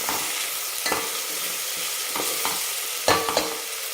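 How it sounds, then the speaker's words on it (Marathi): A paste of ginger, garlic, coriander and green chili sizzles steadily in hot oil, with a few sharp scrapes and knocks of a stirring spoon against the pan; no one speaks. "हिरवं वाटण केलं होतं, आलं, लसूण, कोथिंबीर आणि हिरवी मिरची, त्याचं वाटण टाकून आपण परतून घेणार आहोत"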